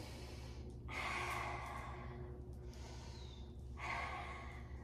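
During yoga practice, two long audible breaths rush out through the nose and mouth, close and soft, separated by quiet pauses, with no speech.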